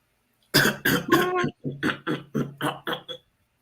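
A string of about eight short, hoarse coughs comes in quick succession, close and fairly loud, with a brief pause after the first few.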